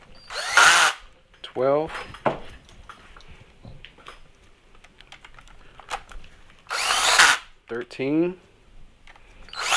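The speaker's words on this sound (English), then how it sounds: "We get our power tool. We'll start the initial torque. We'll just tighten those up in order." Power tool driving and tightening transmission bolts on a 2004-2006 Yamaha R1, with several short bursts of whirring and ratcheting spaced across the clip and a man counting between them.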